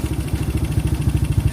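A Yamaha Aerox scooter with a stock CDI and a replaced battery idles smoothly at about 1,600 to 1,700 RPM. It gives a close, even, rapid putt-putt throb with no talk over it.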